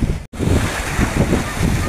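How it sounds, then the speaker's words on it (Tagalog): Strong sea waves surge and wash around an abandoned building standing in the middle of the sea off Dumangas, Iloilo, a continuous rough roar mixed with wind buffeting the microphone, broken by one brief dropout near the start. "Grabe, ang lakas po ng alon ngayong araw na to"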